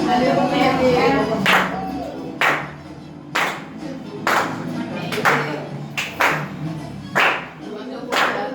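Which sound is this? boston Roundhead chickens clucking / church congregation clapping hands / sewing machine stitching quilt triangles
church congregation clapping hands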